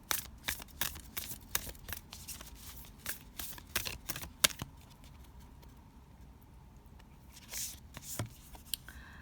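Oracle cards being shuffled by hand during a tarot reading, a run of quick papery riffles and taps close up, easing off to near quiet midway before a couple more soft shuffles.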